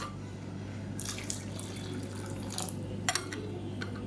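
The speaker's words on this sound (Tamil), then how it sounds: "இன்னும் கொஞ்சம் தண்ணி சேர்த்துக்கலாம்" Hot water is added to a thick side-dish gravy in a cooking pan over a medium flame, heard as a few short splashing, dripping bursts over a steady low hum.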